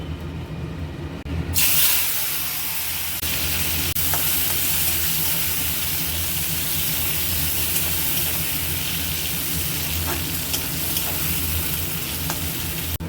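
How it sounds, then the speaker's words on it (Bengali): Eggplant slices fry in oil left over from frying hilsa fish, giving a loud, continuous close sizzle with faint stirring and crackle throughout. "এবারে এই মাছ ভাজা তেলের মধ্যে বেগুনগুলো ভেজে নেব"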